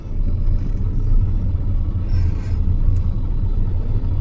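A truck crawling slowly in a traffic jam: a loud, steady low engine rumble fills the cab from start to finish, with no voices and only faint higher rattles on top.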